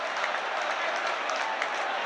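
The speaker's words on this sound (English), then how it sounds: "And the crowd cheer once more" Football crowd in a stadium cheering and clapping, a steady wash of applause and distant roar that stays even and moderately loud for the brief moment.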